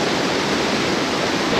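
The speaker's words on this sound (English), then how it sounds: "come to this opening with this incredible waterfall with the bluest water" Waterfall at Lapopu or Matayangu Falls in Sumba, Indonesia, pouring into a pool of very blue water, heard as a loud, steady, dense roar of falling water with no voices.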